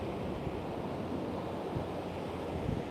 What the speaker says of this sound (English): Still a decent swell coming in, still 4 to 5 with occasional 6.